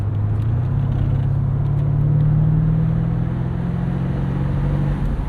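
A 2007 Mercedes-Benz SL550 V8 pulling steadily while driving, a deep, smooth engine drone with a slowly rising note and road rumble, close and continuous.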